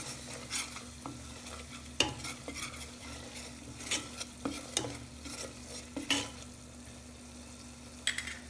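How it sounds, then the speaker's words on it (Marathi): Spoon scraping and stirring turmeric and mixed masala in hot oil in a pan, with a soft steady sizzle under sharp metallic scrapes and taps spread irregularly throughout, close and quiet. "तेही आपण व्यवस्थित परतवून घेऊया तेलावरती।"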